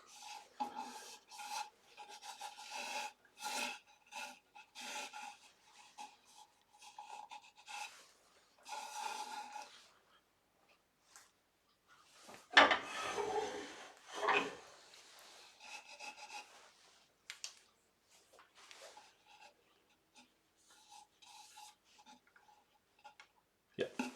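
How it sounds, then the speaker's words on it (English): Ash wood elbow spinning on a lathe as a tool undercuts its rim, giving a run of scraping, rasping cuts in uneven bursts with brief pauses, one louder surge midway, close and fairly quiet. "I just undercut that rim a little bit."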